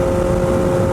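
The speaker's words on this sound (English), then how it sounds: "I think the bike sounds fantastic" A 2019 Kawasaki Z900 motorcycle fitted with a full aftermarket exhaust system, its engine running in a loud, steady, continuous drone with a deep low rumble close by, no talk over it.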